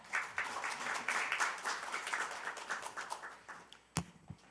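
Audience clapping at a National Assembly policy forum as the committee chair is introduced, a soft, fairly distant patter of many hands that thins into a few scattered claps near the end, with one sharp knock.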